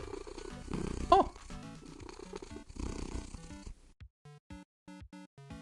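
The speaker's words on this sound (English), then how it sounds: "Purr." A cat purring in the video game In Stars and Time, a steady rumbling purr under game music that then gives way to short, evenly spaced chiming game tones, with no talking.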